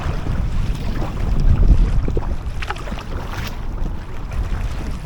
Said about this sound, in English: Bit windy, a bit breezy,